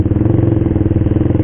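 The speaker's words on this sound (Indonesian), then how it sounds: "Soalnya gua pakai knalpot racing tuh." A motorcycle fitted with a racing exhaust throbs loudly and close by, a rapid, even pulsing engine note with a deep rumble that holds steady through the short moment.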